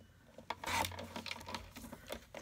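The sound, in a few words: trimming a little off each end of card stock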